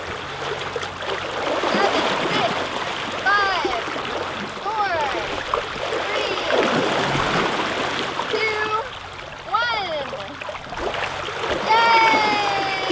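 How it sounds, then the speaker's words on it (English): Feet splash in open sea water from a boat with a run of wet splashes and sloshing, while excited voices whoop and call out over them throughout. "Feet in the water."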